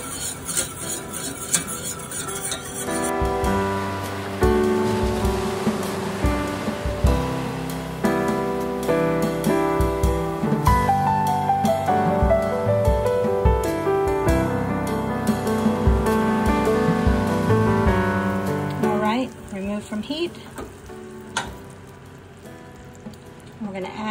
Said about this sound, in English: I would consider that a pretty vigorous boil